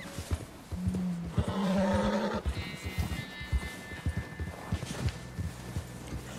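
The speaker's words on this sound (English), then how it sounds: "Beautiful, beautiful horse. White Arabian." A white Arabian horse in the Red Dead Redemption 2 video game gives a clear, nearby whinny, with snorts and clip-clopping hooves before and after it.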